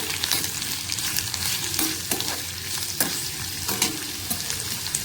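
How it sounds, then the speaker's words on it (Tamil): Two large onions sautéing in a pan for a vegetable masala biryani, a steady sizzle with repeated scraping stirs of a spoon throughout, close and alone. "ரெண்டு பெரிய வெங்காயம் எடுத்திருக்கேன், அதை வதக்கிக்கலாம்."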